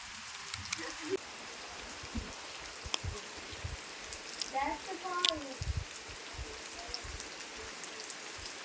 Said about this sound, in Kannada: ಲಾಸ್ಟಿಗೆ ಮಳೆ ಬಂದೇ ಬಿಟ್ಟಿತ್ತು